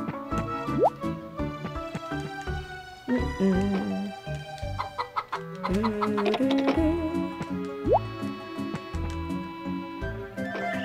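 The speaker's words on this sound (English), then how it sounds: "Chickens, let's get some fresh air." In the video game Harvest Moon: Save the Homeland, electronic chicken clucks and dripping plop sounds pop up repeatedly over a bouncy tonal game music track, all fairly loud and continuous.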